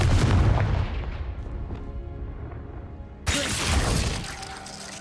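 A Confringo blasting spell goes off in Hogwarts Legacy: a loud booming blast that decays over a few seconds, then a second sharp crack and rumble, with no clear talk.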